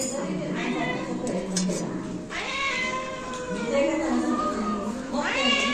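A cat meows repeatedly, several drawn-out plaintive calls close by, with some background voices and faint clinks.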